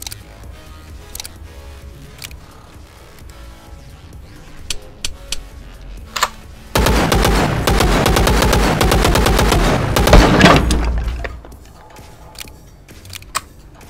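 Rapid automatic gunfire from the VR shooter Chambered on HTC Vive, a dense burst of shots lasting several seconds after a few scattered single shots, loud and close with no talking.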